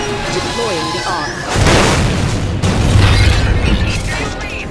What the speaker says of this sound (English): We fired everything at the fold weapon.